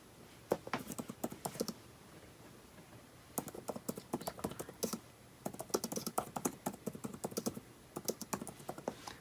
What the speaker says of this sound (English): Let's see what the keyboard sounds like when we're typing away.